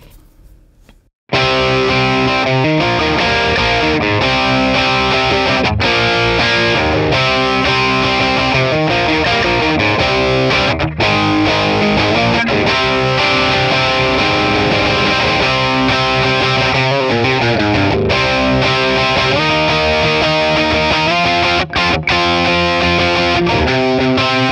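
Electric guitar played through a Vox AC15 amp with a Klon Centaur overdrive pedal, a loud, sustained driven rock tone with strummed chords and rhythmic riffing that starts abruptly after a short quiet moment and continues without pause.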